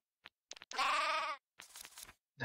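A goat in the video game Craft the World gives a short sequence of bleats: a few quick clicks, one long wavering bleat in the middle, then a shorter rougher call, clean and isolated with no speech.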